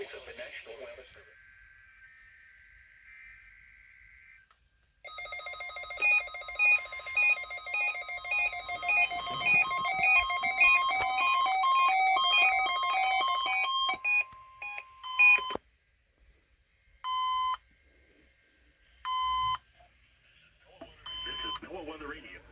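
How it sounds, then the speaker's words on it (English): NOAA Weather Radio required weekly test from a Florida transmitter: a brief burst of data tones, a long tonal warning alarm, then three short end-of-message data bursts, loud and clear with gaps of silence between. "The preceding signal was a test of the public warning and alarm for transmitters in the Florida listening area"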